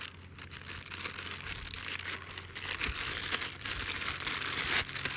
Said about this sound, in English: it comes in a nice bubble wrap and then a plastic baggie